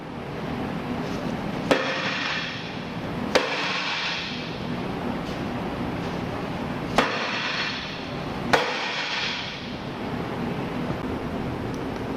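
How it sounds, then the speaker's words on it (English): Four sharp, heavy blows land a couple of seconds apart, each a dead blow hammer hitting a metal plate, over steady broadband background noise. "use a dead blow hammer on the plate as required to obtain movement"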